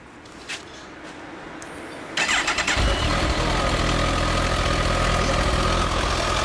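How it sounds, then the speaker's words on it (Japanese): A 2014 Kawasaki Ninja ZX-14R motorcycle engine starts after a quiet moment and settles into a loud, close, steady idle that continues to the end. "あのエンジン音聞かせて。"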